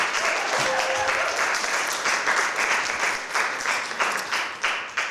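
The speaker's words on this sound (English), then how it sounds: "Let's give them a warm round of applause." A symposium audience gives a warm round of applause, steady and fairly loud, with a few distinct claps standing out as it begins to thin near the end.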